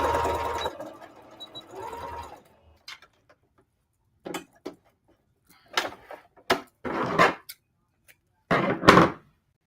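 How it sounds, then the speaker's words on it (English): A domestic sewing machine stitches along the pleat line of a skirt being turned into palazzo pants, running in short separate bursts of whirring and clicking, close and loud, with gaps of silence between runs. "the sewing machine."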